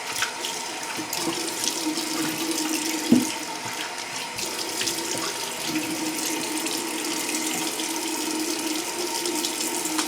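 Tap water runs steadily into a sink to rinse off after a shave, a continuous close splashing stream lasting throughout with a brief louder splash partway.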